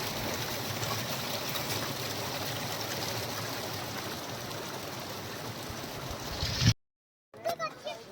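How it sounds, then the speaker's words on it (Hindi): Cold, sweet-tasting mountain stream in Solang Valley near Manali, flowing down from snowy glacier slopes, a steady close broadband rush of water that cuts off abruptly near the end, followed by a few faint knocks. "ऊपर से नीचे आ रहा है और काफ़ी मीठा पानी है"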